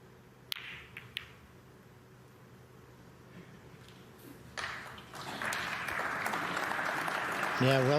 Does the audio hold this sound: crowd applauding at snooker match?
yes